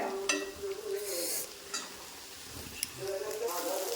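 Eggplant and green chilies stir-frying in a pan, a faint sizzle with soft scraping stirs and a couple of light utensil taps, under quiet talk.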